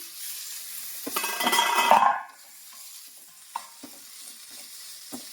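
A spoon stirs curry in a hot pan on the stove, giving a loud sizzling scrape that rises and then cuts off, followed by a few soft taps and clinks of the utensil against the pan.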